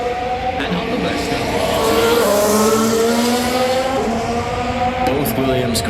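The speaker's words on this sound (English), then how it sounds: "Both Williams cars right now, as we watch timing, are on their best laps" Williams Formula 1 cars on qualifying laps at the 2023 Las Vegas Grand Prix drone past with a high, rising engine whine. The sound is steady and fairly loud, and commentators talk over it.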